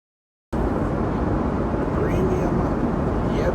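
Steady airplane cabin noise heard from a seat near the front of the plane: a continuous broadband rumble and hiss starts abruptly and holds evenly throughout, with no talk.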